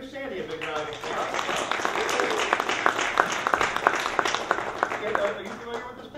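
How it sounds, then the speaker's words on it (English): An audience at a paper tear magic performance applauds a volunteer, with a burst of brisk clapping building in the middle. Voices of talk run under the clapping. "Everybody give Sandy a big round of"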